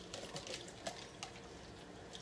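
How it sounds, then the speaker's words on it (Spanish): Tap water runs steadily into a kitchen sink while dishes are rinsed, a faint, even splashing stream heard close with small clinks and drips. "Para que mientras fluya el agua."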